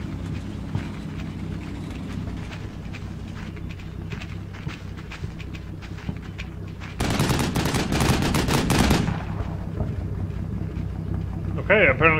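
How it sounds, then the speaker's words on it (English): Gunfire from German rifles and a German machine gun in the Combat Mission war game, set in the Celleno campaign. Scattered sharp cracks sit under a voice, then a dense, loud burst of rapid fire comes before the shots thin out again. "that's German rifle fire, that's a German machine gun"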